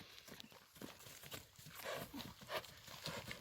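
A Russian-bred horse for the ulak game trots along, its hooves giving irregular clip-clop strikes at moderate distance over low outdoor background noise.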